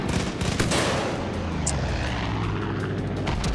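Gunfire in the video game Far Cry 5, a burst of sharp shots at the start that gives way to a roaring, engine-like drone, with a few more cracks near the end, loud and without talk.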